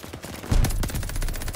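Rapid automatic fire from an AS44 assault rifle in Call of Duty: Vanguard multiplayer, a dense, loud burst of closely spaced shots that keeps rattling for over a second after a short quiet lead-in.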